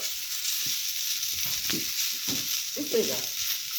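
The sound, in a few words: chilies and garlic frying in oil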